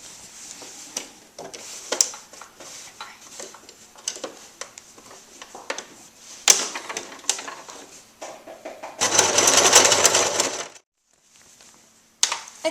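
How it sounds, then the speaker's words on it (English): A sewing machine stitching a running seam along the bottom of a fabric drawstring bag: quick irregular clicks and taps, a steady burst of whirring motor, a short pause, then another brief run. "So you're literally just going to sew a running stitch just about 1/2 centimetre along the bottom"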